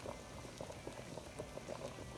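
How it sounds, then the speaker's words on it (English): Chicken simmers in a pan of boiling water salted with about two tablespoons of salt, giving a soft, steady bubbling with scattered small pops, faint and with no voices. "I put it in a pan of boiling water with about 2 tablespoons of salt."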